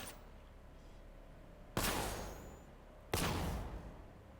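Batmobile cannon in the Batman: Arkham Knight game on PS4, two sharp, heavy blasts a little over a second apart, each leaving a decaying rumble against a quiet background.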